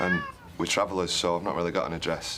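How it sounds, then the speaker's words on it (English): A domestic cat yowls and meows repeatedly in several drawn-out cries, loud and close, mixed in among a person talking. "it's my mum's cat and she's been yowling her head off all night"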